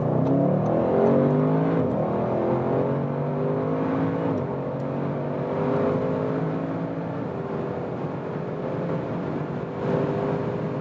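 A 2020 Audi RS6 Avant in RS mode accelerates hard from about 40 km/h, its engine note rising steadily through several upshifts, loud and continuous from inside the cabin with no talking.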